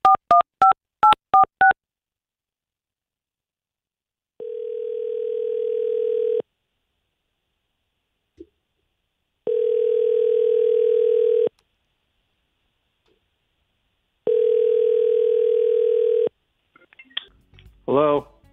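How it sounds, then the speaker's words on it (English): Telephone keypad tones beep in a quick burst of about eight presses, followed by three long, steady ringback tones separated by pauses while a call connects, ending with a brief voice at the close. "So, Jenna, we're going to call up Philip"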